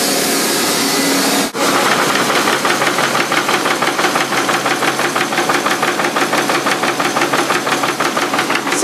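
A Hunkeler and Horizon in-line paper folding machine runs at about 22,000 per hour, giving a loud, steady mechanical clatter with a rapid regular rhythm; a brief dip near the start, then continuous close-up operation with no talk.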